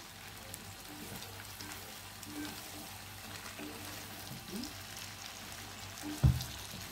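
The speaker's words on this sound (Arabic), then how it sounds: "اشوح بقى تشويحه حلوه كده." Onions sautéing in a pan sizzle softly and steadily, with a few faint clinks and one sharp knock of a utensil near the end, all fairly quiet with no voices.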